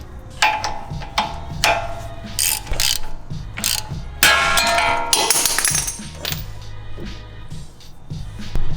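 A socket ratchet clicks in bursts while breaking loose a tie rod nut during a shock install on a 2016–2023 Toyota Tacoma, with several rapid metallic ratchet runs and clinks close up and no talk.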